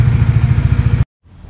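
A Bajaj Dominar 400 motorcycle with about 59,000 km, ridden off-road, runs loud and close with a steady throbbing engine note for about a second, then cuts off abruptly into near silence.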